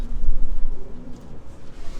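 A female racing pigeon, a 1015 km race champion, gives low, soft coos close by, a few throaty murmurs over quiet handling noise.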